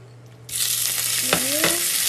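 Beef hits a hot pan and bursts into a loud, close sizzle that holds steady, with a couple of sharp scraping stirs partway through; no talking.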